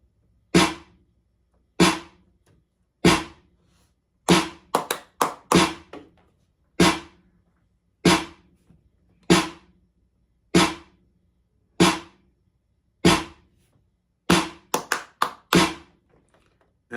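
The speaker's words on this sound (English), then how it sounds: "Let's hear that clap. It's a clap and snare combo." A clap-and-snare combo sample programmed on an MPC hits in a steady pattern, punchy and close, with occasional rapid triplet rolls between the evenly spaced strikes and no voices.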